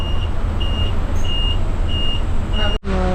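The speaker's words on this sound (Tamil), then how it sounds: "செங்கப்பள்ளியிலேருந்து வண்டி எடுத்தாச்சு" A bus setting off from Sengappalli, heard as a steady reversing beeper sounding five evenly spaced tones over a loud engine rumble, then a brief cut before the engine continues.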